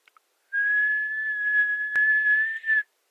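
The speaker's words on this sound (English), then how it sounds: "I'm going to whistle again" A single steady whistle from a person, held clear and close for about two seconds, with a brief click midway and a slight pitch rise at the end.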